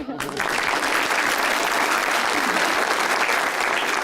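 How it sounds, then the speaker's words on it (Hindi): A studio audience at a Pakistani television talk show breaks into loud, dense applause that starts abruptly and holds steady, filling the room close up with no voices over it. "उनके पीछे वाले ने जो ताली बजाई है"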